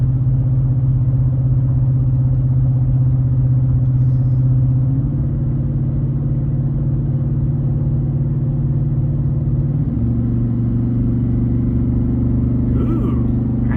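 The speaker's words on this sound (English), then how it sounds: "Now we're gonna go up a hill. So once it downshifts," A vehicle engine drones steadily at highway speed and drops into a lower gear while climbing a hill, its pitch shifting down twice to a heavier, louder hum, constant and close throughout.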